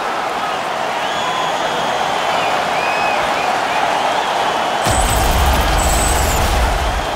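An arena crowd cheers after a fight in the NHL 21 hockey video game, a broad, steady roar of noise that swells louder and fuller near the end, with no talking over it.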